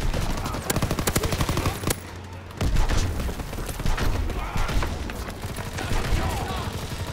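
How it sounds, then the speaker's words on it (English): Gunfire from the Call of Duty WWII video game, with rapid machine-gun bursts and scattered single shots in a wartime battle near a tank, loud and dense throughout. "They fire on the infantry by the tank."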